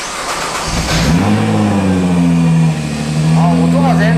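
Nissan GT-R Nismo engine revving up strongly, a deep rising growl that holds steady for several seconds, close and loud, with people talking over it.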